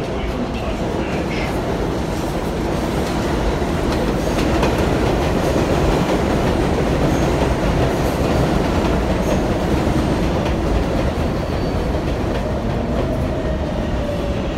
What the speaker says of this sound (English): There is a local 7 train to Flushing Main Street.